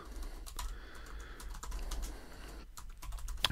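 Typing on a computer keyboard while entering a website domain name, a steady run of light, quick key clicks with a few short pauses, close and clear over faint background hum.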